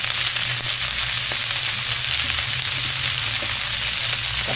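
Pork sisig frying with a splash of oyster sauce in a pan, a steady, loud broadband sizzle that holds evenly throughout with a few faint clicks of stirring.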